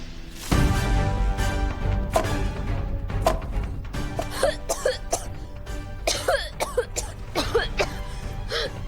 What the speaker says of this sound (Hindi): मसाला और मिर्ची की महक से खांसी आने लगती है।